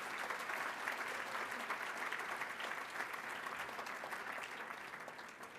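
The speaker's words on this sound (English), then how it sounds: "Applause for them, please." Audience applause for student performers at a school celebration, a dense, continuous round of clapping from a large crowd that holds steady and tapers slightly near the end.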